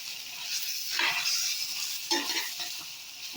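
Green chilli chicken fries with pepper powder in a pan, giving a bright, steady sizzle. Two swells mark stirring strokes, heard up close with no voices over it.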